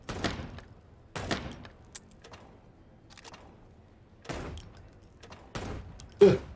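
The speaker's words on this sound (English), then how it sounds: "I'm shooting as well as I do in every other video game" Gunshots in the Chicken Police video game ring out as about five separate sharp cracks at uneven intervals, each followed by a short echo, with quiet between them.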